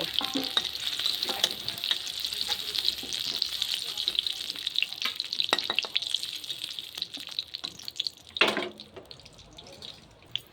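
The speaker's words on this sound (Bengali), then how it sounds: "এখন আমি হালকা ভেজে তুলে নিব।" Pieces frying lightly in hot oil in a pan for an Indian-style country chicken dish with milk taro stalks: a steady, close hiss and crackle with scattered louder pops and spatters, no talking.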